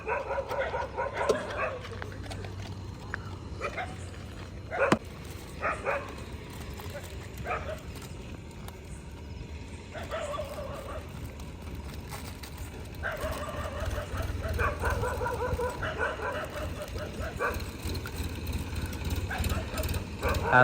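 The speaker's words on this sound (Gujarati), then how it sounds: "આશરે 100થી વધુ કૂતરાઓનું એ રાત્રે આ રીતથી દૂધ અને બિસ્કિટ ખવડાવે છે" Dogs bark during a night-time feeding of milk and biscuits to a large pack of strays, with scattered barks, a rooster-like call and scuffling under ongoing talk, moderately close.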